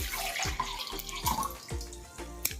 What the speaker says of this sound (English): with water, which I'm going to pour it into a measuring jug